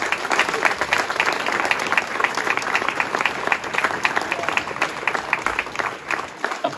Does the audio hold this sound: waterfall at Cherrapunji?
no